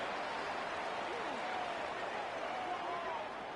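A stadium crowd in a football video game roars and applauds in a broad, steady wash, with a commentator's voice running over it.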